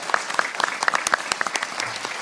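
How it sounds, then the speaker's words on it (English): Audience applause after a televised assembly candidate forum on climate, heard as a short burst of scattered, moderately loud hand claps that thins out within a couple of seconds. "Let's give them a round of applause."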